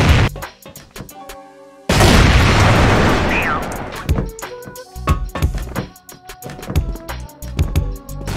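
A loud grenade blast in a first-person shooter game booms out after a string of sharp gunshots, its roar decaying over a couple of seconds before more scattered shots and impacts continue, with no voices over it.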